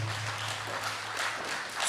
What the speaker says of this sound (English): Wakiaga another round of applause